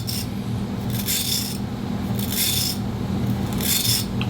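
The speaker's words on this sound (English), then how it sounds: "So we'll just take our wire brush" A wire brush scrubs in slow, steady strokes to deburr a sharpened ceramic clipper cutter blade. Three or four rhythmic rasping passes come through loud and close over a constant low hum, with no talk.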